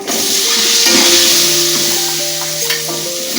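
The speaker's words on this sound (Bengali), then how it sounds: "এবার আমি আলুটা ভেজে নেবো।" Potato pieces frying and being stirred in a pan of hot oil for a Bengali banana-flower curry with coconut and prawns, giving a steady close sizzle with scraping stir noises and no talk.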